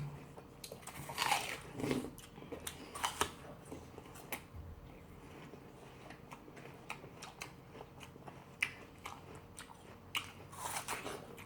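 A whole apple is bitten with sharp crisp crunches, each followed by quieter wet chewing, close to the microphone in an otherwise quiet room, with a few separate bites spread across the stretch.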